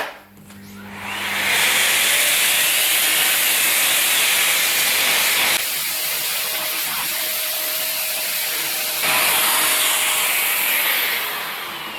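A vacuum cleaner suctions dust from an air-conditioner filter, a loud steady whooshing hiss that swells in after a brief start, shifts in tone partway through as the nozzle moves across the filter, then eases off at the end.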